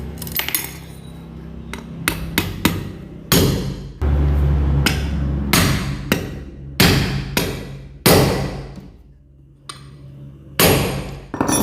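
Repeated hammer blows tap a part into a Suzuki GL series engine block during head and clutch assembly, sharp metallic strikes in irregular clusters, close and loud with clinking rebounds and a brief low thud.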